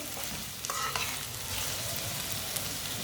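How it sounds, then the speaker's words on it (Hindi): Finely chopped onions browning in oil over fairly high heat while being stirred, for a stuffed bitter gourd dish. A close, steady sizzle runs throughout, with a few soft spoon scrapes near the start and no talking. "2 बारीक कटे हुए प्याज डाल लेंगे। प्याज को हल्का सा ब्राउन कर लेंगे।"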